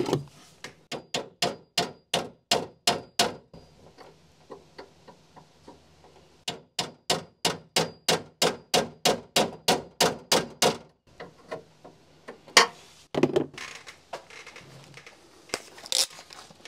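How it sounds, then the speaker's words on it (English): A bus window regulator part being tapped out with metallic clanging strikes, loud and close, in fast rhythmic bursts with short pauses, then a few scattered knocks and rustling. "If I can tap that out of there without breaking this window."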